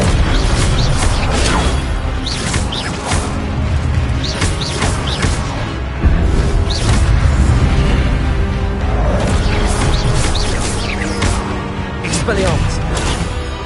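Expelliarmus spells are cast in a Hogwarts video game on hard difficulty. Dense, loud game audio carries booming bursts and pops over continuous rumbling effects and a voice.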